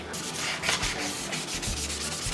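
Wet sanding of a car body panel with 600-grit sandpaper on a Honda FD2 being prepared for two-tone paint, heard as close, continuous rhythmic rubbing and scraping strokes with no speech.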